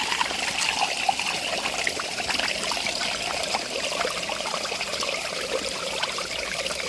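Dirty pond water drains out in a continuous splashing trickle, a steady stream pattering onto the ground nearby, from a 3000-gallon pond in winter.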